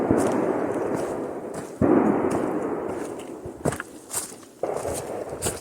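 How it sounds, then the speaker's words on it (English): Gunshots from a nearby gun range along the Appalachian Trail near Penmar, heard as several sharp reports at a distance, the first two heavy booms and later a few quicker cracks, with an air raid siren also sounding in the area. "I don't know if you can hear those gunshots or not."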